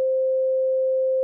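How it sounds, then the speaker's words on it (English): A steady, pure electronic tone holds at one pitch, loud and unwavering, with nothing else around it. "This is a waveform, just a sine wave,"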